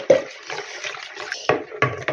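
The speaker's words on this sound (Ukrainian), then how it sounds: "Тепер додам сюди кефір." Thick warm kefir pours into a bowl with a soft, sloshing gurgle, followed by a few brief clinks and splashes.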